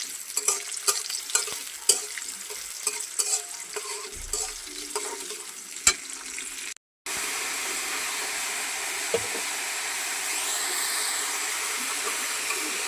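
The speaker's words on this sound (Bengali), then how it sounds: "কড়াইয়ের মধ্যে তেল আর পেঁয়াজ দিয়ে দিচ্ছি।" Oil and onions fry in a wok for a fish and cauliflower curry, with a steady sizzle that carries scattered stirring clatter and brief clicks, then breaks off and resumes as an even, louder hiss.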